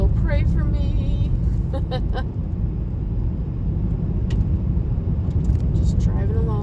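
A car drives along a rural road past farmland at night, its steady low engine and road rumble filling the cabin while scattered chirps and clicks sound over it.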